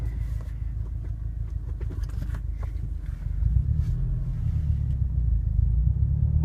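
A 2013 Subaru WRX cruises at low RPM with the windows up, its exhaust a steady low rumble beneath road and tyre noise that swells slightly midway.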